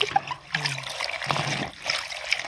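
Green first rinse water drains and trickles off pickled cabbage during washing, dribbling and splashing in short uneven bursts, close by with no voices.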